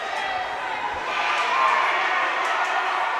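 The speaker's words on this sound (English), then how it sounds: "the student section is cheering their heads off for that one" A student section roars during a varsity girls' high school ice hockey game between Portland Deering and Edward Little, a steady crowd cheer that swells midway, with a commentator's voice running over it.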